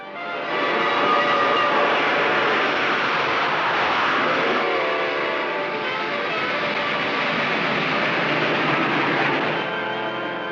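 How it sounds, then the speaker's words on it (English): A steam train races along the rails on a record-speed run from Los Angeles to Chicago, making a loud, steady roar and rumble that goes on without a break. "Exactly 44 hours and 45 minutes from the time he left Los Angeles, Death Valley Scotty stepped from the train in Chicago."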